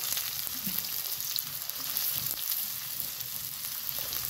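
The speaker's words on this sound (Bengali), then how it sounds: "তেলে পেঁয়াজ দিয়ে দিব" Onions fry in hot oil with whole cumin, a dense, steady sizzle close up and fairly loud, with faint crackles and occasional stirring taps, no voices.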